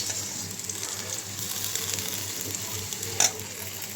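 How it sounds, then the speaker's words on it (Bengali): Goat liver fries in hot oil in a pan, a steady close sizzle with a brief louder crackle near the end, no talking. "এই তেলের মধ্যে কলিজাটা ভেজে ফেলবো।"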